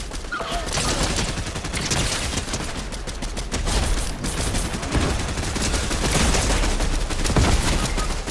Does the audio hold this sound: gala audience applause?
no